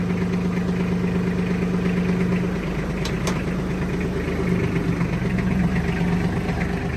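Mini tractor engine idling just after starting on a weak, partly discharged battery, a steady close mechanical chug with a low rhythmic throb running evenly throughout, no talk over it.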